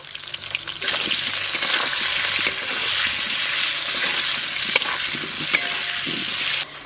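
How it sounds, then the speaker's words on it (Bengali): Cut potatoes fry in mustard oil with a loud, continuous, close sizzle that swells after a brief start, broken now and then by sharp clicks of a spatula against the pan. "সর্ষের তেল দিয়ে আলুগুলো খুব ভালো করে ভেজে নেব"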